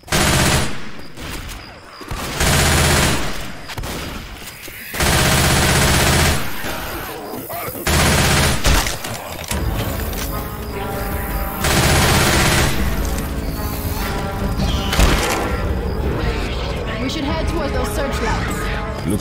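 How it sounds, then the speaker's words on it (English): Sustained automatic fire from a machine gun in Left 4 Dead 2 at the Dark Carnival, coming in loud rattling bursts with short gaps between them, mixed with game noise and background speech. "I guess I'll take this here machine gun."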